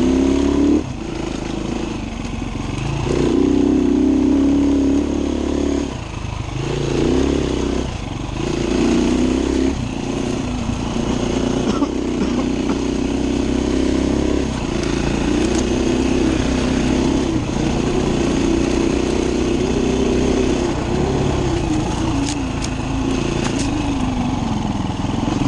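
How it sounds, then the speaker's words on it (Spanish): A Husaberg 350 motorcycle engine runs steadily while being ridden on the road, a close, loud, continuous drone that rises and dips with throttle changes and gear shifts throughout, with no one talking. "para que veamos cómo trabaja la moto"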